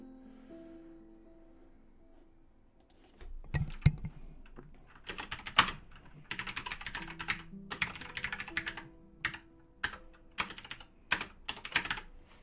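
Rapid clacking on a computer keyboard, a close run of bursts of keystrokes with short pauses between them, loud and dry with no voices.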